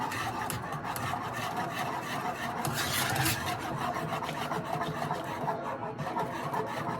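Steady rasping scrape of a spoon stirring thick champurrado in a pot, continuous and close with a rough, even texture and no pauses.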